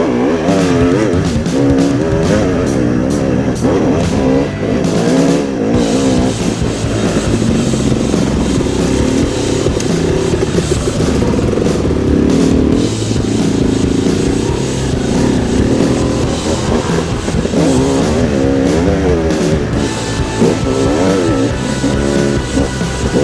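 A two-stroke enduro motorcycle engine on a trail ride, revving loudly and continuously with a raspy, buzzing note that rises and falls with throttle changes throughout, very close and with a slightly rough, uneven tone.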